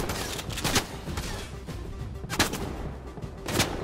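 Gunfire from the video game Fortnite: a few sharp broadband shots stand out at irregular intervals over a dense, steady background of game noise, with no voices.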